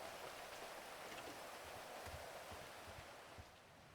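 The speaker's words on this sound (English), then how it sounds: "Get inside out the fucking rain, man. This shit's so loud." Heavy rain pours in the GTA 5 NoPixel role-play game, making a dense, continuous wash of patter with scattered drop splashes. It sounds fairly faint and eases slightly near the end, with no voices.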